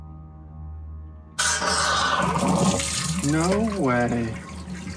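Water starts rushing through a newly connected hose from a reverse-osmosis feed line in a home brewery, a sudden loud hiss of flow that continues steadily while someone speaks briefly over it.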